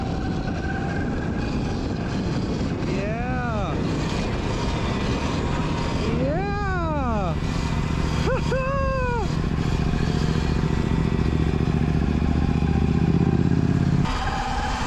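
Surron electric motorbike doing wheelies at night, its motor whine rising and falling in several sweeping pitch bursts over steady background noise, with people's voices audible.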